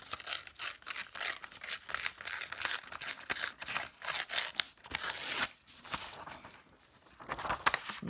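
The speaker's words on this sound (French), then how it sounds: "vous avez besoin d'une feuille de papier que vous allez venir déchirer" Paper being torn in a series of short ripping bursts, close and crisp, pausing briefly before a few final tears.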